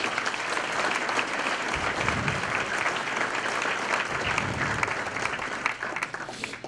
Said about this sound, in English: Can I have that round of applause?